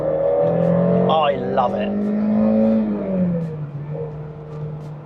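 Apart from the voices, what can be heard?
Citroen ZX 16V hot hatch engine revving while driving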